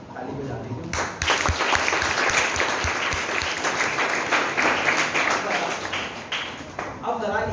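Audience of students clapping during a motivational session, a brief quiet start then a sudden burst of loud, dense applause that holds steady and tapers near the end.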